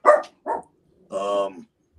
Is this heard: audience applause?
no